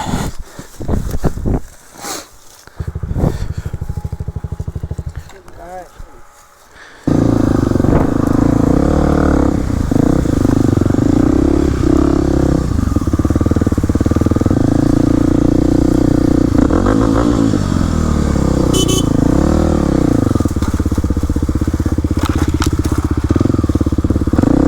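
A dirt bike engine on an enduro trail ride, starting with sputtering, crackling idle and blips, then settling into a loud, steady, close-up running drone with rising and falling revs as the bike moves along the trail.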